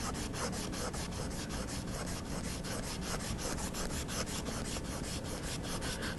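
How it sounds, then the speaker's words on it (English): A gum eraser rubs firmly across charcoal on paper, giving a steady, close scrubbing rasp in quick back-and-forth strokes with no talk. "This is a gum eraser, which will allow me to push a little harder into the charcoal and remove a bit more of it."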